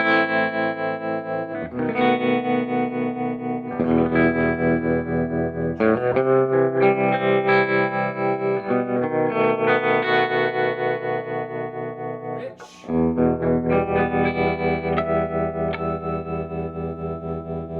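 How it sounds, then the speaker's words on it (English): Original Marshall 18 watt guitar combo amp with its vibrato on, a guitar playing sustained chords and notes with a pulsing, wavering tone and slight grit, steady and close with one brief dip near the end. "Let's hear the vibrato on the old one."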